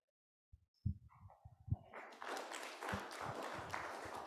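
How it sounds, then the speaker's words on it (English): Conference audience applause, starting with a few scattered claps that swell into steady, moderately quiet clapping from many hands in a hall. "thank you very much for clapping"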